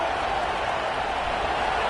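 A stadium crowd at an NCAA college football game roars in a steady, dense wash of cheering and noise that holds loud and unbroken throughout, with no clear talk above it.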